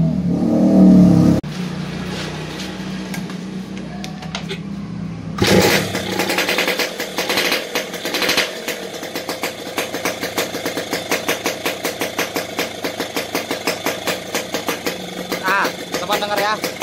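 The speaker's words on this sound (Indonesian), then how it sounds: "Tuh dari knalpotnya suaranya udah beda, ngebletaknya udah berisik banget." Yamaha RX King two-stroke motorcycle with a rich carburettor setting, idling and then revved repeatedly through a loud, crackling exhaust in rhythmic bursts close by, with a short bit of talking at the start.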